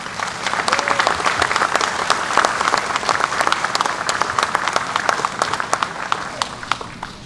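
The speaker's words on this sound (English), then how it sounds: "One more round of applause, please, for our veterans." A crowd at an 80th anniversary D-Day ceremony in Normandy applauding veterans, with dense, sustained clapping from many hands that holds steady throughout and carries a light outdoor spread.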